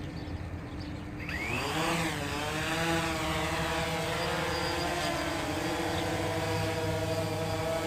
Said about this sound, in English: Okay, so we got the prop spinning.